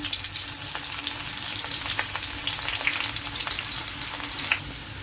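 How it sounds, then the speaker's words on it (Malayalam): Small chopped shallots fry in hot oil for a fish pickle, giving a steady, close sizzle with soft stirring and faint crackles throughout. "ഒരു രണ്ട് കുഞ്ഞുള്ളി ചെറുതായിട്ട് അരിഞ്ഞതാണ്"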